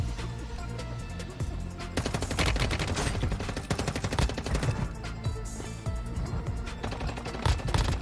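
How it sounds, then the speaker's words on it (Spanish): Bursts of automatic gunfire in the mobile shooter game Warzone Mobile crackle in rapid clusters, fairly distant and steady across the clip with no talk. "Escucho disparos de otro lado."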